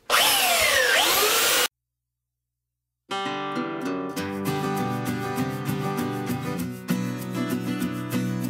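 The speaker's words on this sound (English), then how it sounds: "I'm gonna just sand a little bit here so you can get an idea of what I do." A power sander working a wood board, with a brief burst of loud whirring, a pause of silence, then a steady humming whine that runs on with some rubbing variation, close and loud.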